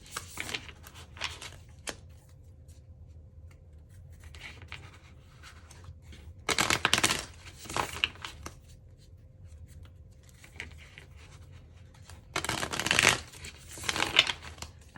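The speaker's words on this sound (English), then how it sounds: "As I'm shuffling" Tarot cards shuffled by hand at close range, soft papery riffles and slides with a few louder bursts of flicking cards over a quiet background, no speech.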